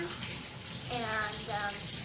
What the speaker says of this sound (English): now I'm just going to wash everything off so we don't have any soap on our strawberries